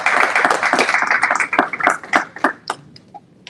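A small audience applauds for two colleagues at a university investing club event, a dense burst of hand clapping that thins into scattered individual claps and fades out.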